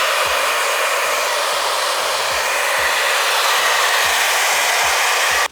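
A Babyliss hair dryer blows close by and loud as it heats the adhesive on a 2021 Toyota Supra badge, a steady rushing whoosh with a faint repeating low ticking underneath, which cuts off abruptly at the end.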